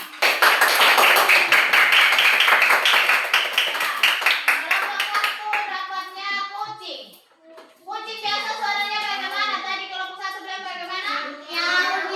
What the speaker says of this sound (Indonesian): Tepuk tangan dulu presentasinya.